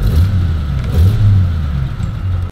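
A 1931 Studebaker Dictator Regal sedan engine running just after starting, a loud, close, low rumbling idle with a slight rise and fall in revs, no talk.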